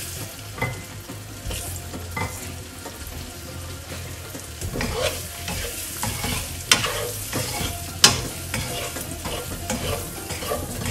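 Masala-coated eggs for egg curry are sautéed in a pan, with a continuous close sizzle broken by a few sharp scrapes and knocks of the spoon against the pan.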